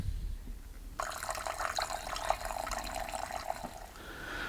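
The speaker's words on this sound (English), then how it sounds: "now I need to add another 70 grams of solvent onto it" Solvent pours into a mixed batch of epoxy primer in a container, a steady liquid trickle starting abruptly after a second and running close and even for about three seconds before tapering off.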